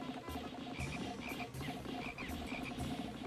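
Frogs in the Pikmin video game croak repeatedly in a steady, pulsing rhythm over a busy game soundscape, fairly quiet overall.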